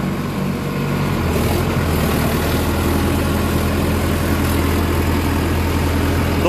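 An Indo Farm 3065 DI 65 hp tractor engine runs at a steady 1500 RPM, with a loud, constant low diesel drone and vibration heard close up and without pause.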